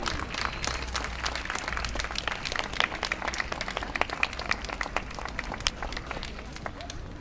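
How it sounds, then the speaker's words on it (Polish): A crowd claps after the unveiling of a mermaid statue in Warsaw's Wola district, a brisk patter of many hands with sharp individual claps standing out over the steady outdoor applause. "Dzięki, brawa."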